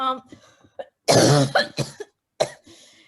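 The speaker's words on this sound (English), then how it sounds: "you're going to start coughing again" Several harsh coughs close to the microphone in quick irregular bursts, with a throat-clearing rasp and brief speech-like sounds between them.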